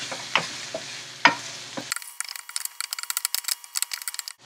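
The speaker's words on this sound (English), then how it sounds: "To this onions and black beans, I am going to add taco seasoning. Okay, mix it well." Onions and black beans with taco seasoning being stirred in a pan, at first a dull sizzle with a couple of utensil knocks, then a rapid run of sharp scraping clicks and taps, close and fairly loud.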